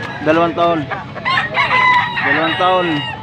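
Rooster crowing up close at a Pampanga market, several loud crow phrases in quick succession with voices talking in the background.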